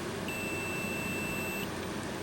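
A continuity tester gives one clear, steady electronic beep lasting over a second while probing pins on a 1983 Bally Midway Discs of Tron arcade circuit board, set against a low, constant hum.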